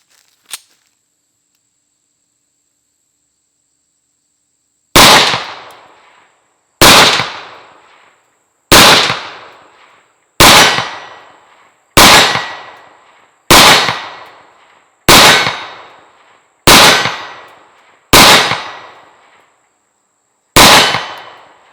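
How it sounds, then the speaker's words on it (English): Ten loud pistol shots from a Rock Island Armory 1911 chambered in 22TCM, fired outdoors at a target 50 yards away, ring out at a steady pace of about one every one and a half seconds, each with a sharp crack and a short decaying tail. "I'll shoot these 10, then we'll go take a look at it"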